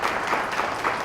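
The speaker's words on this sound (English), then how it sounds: "Let's give these students a round of applause for completing this amazing program." Audience applause for students at a school of business awards banquet, a steady wash of many hands clapping at moderate volume for about a second, with no voices standing out.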